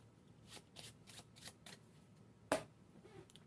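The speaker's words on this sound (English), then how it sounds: "So they shuffle the cards," Soft, quick riffles of playing cards being shuffled close by, a handful of brushing bursts followed by one sharp snap as the deck is squared.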